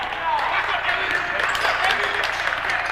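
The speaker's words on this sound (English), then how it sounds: "the crowd getting fired up, as well as the two benches" Crowd noise at a men's college basketball game between CSJ and the University of Maine Fort Kent, a steady broadband roar of fans and benches getting fired up, with commentators talking over it throughout.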